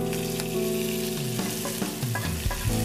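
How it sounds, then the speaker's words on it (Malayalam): Grated coconut tempering fried until browned and then added to a Kerala kootu curry, with loud crackling sizzle and stirring throughout a short burst, no voices. "ഇനി നമുക്ക് ഈ ഒരു താളിപ്പ് നമ്മുടെ കൂട്ടുകറിയിലേക്ക് ചേർക്കാം."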